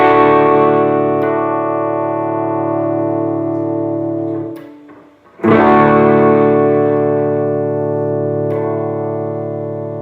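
Distorted electric guitar chord with the third included, played through a DiMarzio Super Distortion or Super 2 bridge pickup: a loud sustained chord rings out, briefly dies away, then is struck again and left to decay slowly, with no talking.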